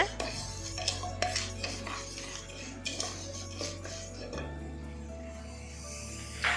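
Moong dal being fried in a pressure cooker, with repeated metal scrapes and clinks of a spoon against the pot over a low steady hum, close and moderately loud.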